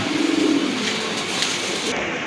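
Silver Lahore pigeons cooing briefly, a soft low murmuring coo close by, faint and short against a quiet background.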